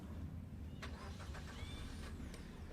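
A manual-transmission car engine cranks and catches, faint and muffled inside the cabin, with a few brief clicks over a low steady rumble.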